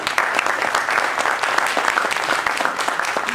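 Audience applause at a user group meeting, a dense steady patter of many hands clapping continuously at moderate loudness throughout, with no talking over it.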